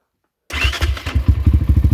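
A 2024 Kovi Lite 300 motorcycle engine fires up after a brief silence and settles into a loud, close, lumpy idle with a rapid throbbing beat.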